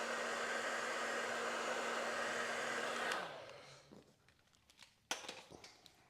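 A heat gun blows steadily with a loud, even hiss for about three seconds while warming a loose Harley motorcycle mirror, then cuts off, leaving faint handling clicks and a sharp knock.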